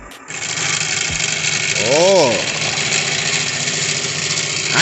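The electric motor of a New Bright Bigfoot RC monster truck whirs steadily at close range, rising briefly in pitch as it revs, while a person talks over it.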